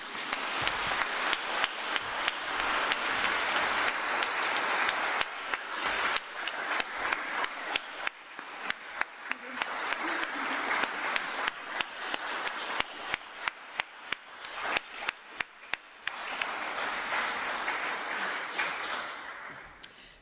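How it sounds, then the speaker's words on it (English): An audience applauds after a lecture in a hall, with dense, sustained clapping that holds for about twenty seconds, thins briefly midway, then swells again before fading out. "Please join me in expressing our gratitude for Dr. Fisher, or should I say Splat, with a round of applause."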